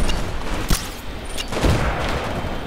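Smart pistol shots in the Titanfall multiplayer beta crack out as a few sharp, punchy reports, loud and close amid busy battlefield noise.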